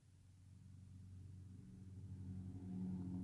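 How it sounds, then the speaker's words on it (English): A car engine in the Brookhaven video game hums low and faint while the car parks in a garage, a steady rumble that slowly builds toward a louder revving tone at the end. "Now it's time to park my car in my garage."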